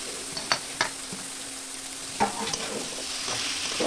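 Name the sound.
cabbage frying and being stirred in a pan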